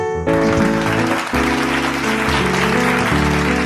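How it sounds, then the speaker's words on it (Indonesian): An audience applauds a guest, Ustadz Syauki, with dense, loud, sustained clapping that starts abruptly and carries on steadily while music plays underneath. "Tepuk tangan dong sekali lagi."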